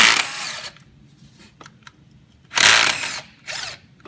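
Power tool whirring as 8mm valve cover bolts are loosened on a Chevrolet Silverado engine, with a long burst at the start, a second burst near the end and a shorter one after it, separated by quiet gaps with small clicks.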